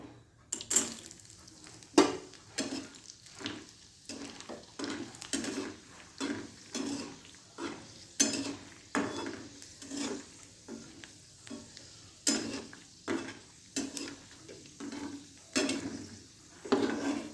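Almonds being stirred in ghee in a pan for shir khurma: a soft sizzle runs throughout under a steady rhythm of spoon scrapes and clinks against the pan, roughly one every second, close and clear.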